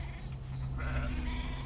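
Sheep bleating faintly at night in a rural setting, a short steady call under a constant low background hum, no talking.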